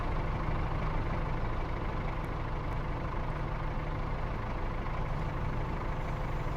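A tractor engine idles in Farming Simulator 22, a steady low rumble holding evenly throughout with no talk over it.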